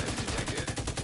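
Rapid automatic gunfire in The Division 2 Dark Zone PvP, a dense run of evenly spaced shots firing loud and close throughout.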